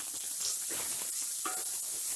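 Chopped tomatoes hit a frying spice masala, giving a soft, steady sizzle with faint stirring scrapes, fairly quiet and close, without talking.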